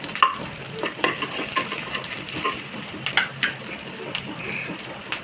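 Onions fry in a pan for a peanut chutney tempering, a steady sizzle broken by repeated scraping stirs and light clinks of a spatula close by.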